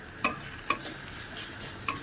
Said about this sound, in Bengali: এবার আমি মশলাটাকে ভালো করে ভেজে নেব